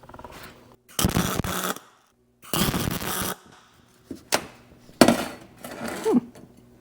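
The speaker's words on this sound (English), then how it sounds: "We've got those all tacked in." Tack welds on a Jeep WJ coil spring tower come as short crackling, buzzing bursts of about a second each, about five spaced across several seconds and fairly close, with quiet gaps between them.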